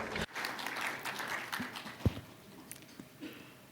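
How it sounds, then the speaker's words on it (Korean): Light, scattered clapping from a conference audience at a forum session greets a speaker, faint and thin with a few isolated sharper claps. "큰 박수로 모시겠습니다"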